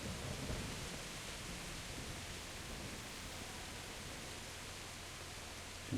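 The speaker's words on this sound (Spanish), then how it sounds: "Bonita tormenta" Thunderstorm in the video game Kingdom Come Deliverance: a steady, dense roar of rain and rumbling thunder that holds at an even loudness throughout, with no voices.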